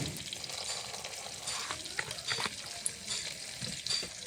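Small hilsa fish frying in hot oil in a home kitchen, a steady close sizzle and crackle with occasional sharper pops and spatters, no voices.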